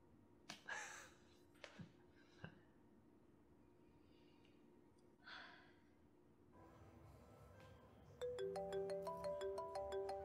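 Phone ringtone in a Korean PC dating game, a bright repeating melodic ring starting late and continuing to the end, after quiet breaths and sighs.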